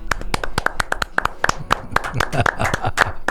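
Scattered, distinct hand claps from a small group ring out close by in an irregular rhythm, each clap sharp and separate, with faint voices mixed in beneath them.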